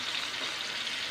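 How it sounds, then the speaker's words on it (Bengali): Spice paste frying in a pan for a duck egg bati bhapa, a steady broadband sizzle that holds evenly and fairly loud through the short stretch, with no voices over it. "এবার এটাকে কিন্তু এই মশলাটাকে ভালো করে কিন্তু কষাতে হবে।"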